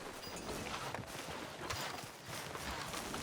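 Horse hooves clip-clop steadily in Red Dead Redemption 2, a continuous walking rhythm over broadband game ambience, with no talk.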